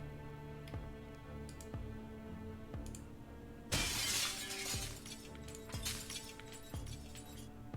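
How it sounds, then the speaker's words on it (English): Window glass smashes loudly in Project Zomboid Build 41, a sudden bright crash midway that rings and tinkles for a few seconds over quiet game ambience and faint periodic thumps. "I think smashing the window might be quieter than doing the dismantling of the door"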